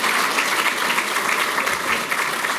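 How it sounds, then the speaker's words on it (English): Audience applause fills a hall during a civic address by Chicago's water management commissioner, a dense, steady wash of many hands clapping together for a few seconds with no talking over it. "It's okay, you can clap."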